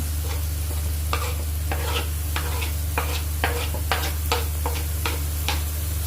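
Chopped coriander leaves are sautéed in a pan for a coriander kurma, with a spatula scraping in quick, fairly regular strokes over a steady sizzle and a low constant hum, with no talking.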